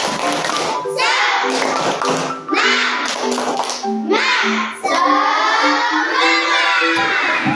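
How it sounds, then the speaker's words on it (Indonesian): Rhythmic 'tepuk semangat' clapping routine in an Indonesian classroom: a group claps sharp, patterned beats while children's voices chant along in a lively, steady tempo, with brief pauses between rounds. "Oke, sekali lagi kita semangat semuanya. Tepuk semangat."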